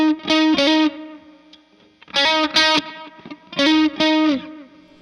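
An electric guitar, a Fender American Vintage II '66 Jazzmaster, rings out through effects in three pairs of quick, loud strummed chords, each pair left to decay into a short pause.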